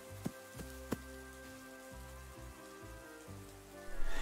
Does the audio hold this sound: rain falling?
yes